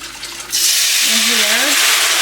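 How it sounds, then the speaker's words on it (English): Sauce sizzles loudly and steadily in a hot cooking pan as it is whisked, the broad hiss jumping up after a quieter half-second start, with a brief voice sounding underneath. "So I'm going to whisk this sauce"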